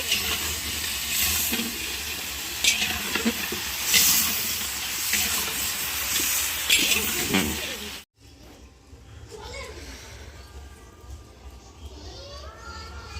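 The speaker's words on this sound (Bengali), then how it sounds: "সবজিগুলো কষে নিচ্ছি, ফুলকপিটা কষা হয়ে গেছে" Cauliflower, potatoes and other vegetables sizzle and hiss as they are fried in a pan for khichuri, a steady close crackling that breaks off briefly and resumes more softly, with a voice speaking over it.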